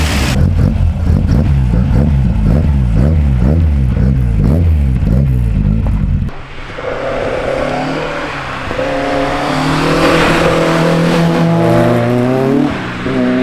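A Ford Escort MK1 engine revs hard and loud, climbing through a quick series of rising accelerations before the sound shifts into a rougher, broader road and engine roar as the car drives on.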